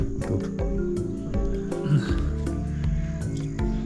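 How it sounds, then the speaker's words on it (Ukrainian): Frogs croak loudly in a rapid, repeated chorus, close by and continuous, with a few sharp clicks scattered through. "Поки тільки жаби."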